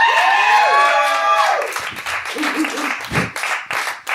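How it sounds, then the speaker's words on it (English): A burst of crowd applause and cheering rings out, fading into scattered claps and murmuring voices over a few seconds. "so give them a round of applause"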